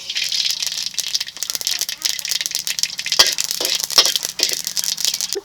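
Black mustard seeds splutter and crackle in a little hot mustard oil in a wok, a dense run of sharp pops and rattling crackles at close range, unbroken throughout.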